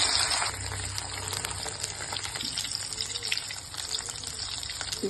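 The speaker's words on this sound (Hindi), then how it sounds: "कचालू मैंने छील लिए, अब इसको मैं फ्राई करूंगी।" Peeled kachalu (taro) frying in a pan of hot oil for a Sindhi dish, giving a steady, close hiss and sizzle that runs throughout without talk.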